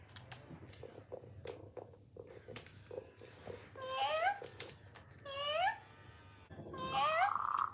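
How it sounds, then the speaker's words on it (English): Several animatronic robotic interactive plush cats and kittens meow together once switched on, with mechanical clicks and whirs at first, then overlapping electronic meows rising in layered, repeated bursts, close and moderately loud. "I'll finish off with all these animatronic cats being switched on at the same time"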